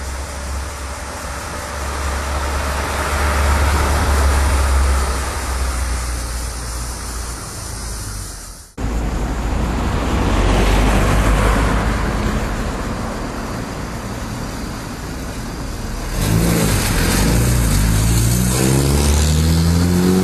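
A 1985 Ford Escort XR3 drives along with a sustained mid-pitched engine note and road roar, close and loud, revving up and shifting through gears with a sharp break partway, no talking.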